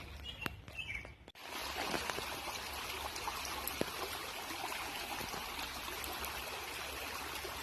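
Creek water trickles and babbles over rocks in southwest Ohio, a soft steady flow with light birdsong chirping above it, faint and outdoors, after a brief handling bump near the start.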